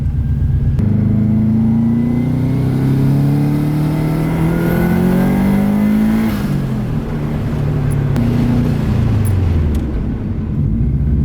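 A Subaru with modified brakes and exhaust drones loudly and steadily, engine pitch rising and then sliding down as it brakes and slows, with no voices.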